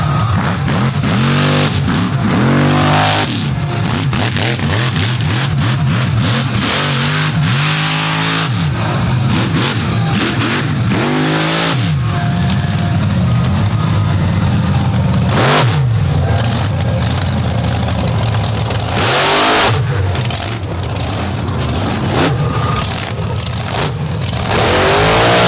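A dirt-track motorsport engine revs hard and continuously as the machine slides up near the wall on a sandy South Florida track, loud and close with rising and falling throttle bursts throughout.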